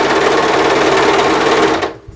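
Sewing machine running fast and steady while stitching a cardigan, a loud continuous mechanical whir close by that stops abruptly near the end.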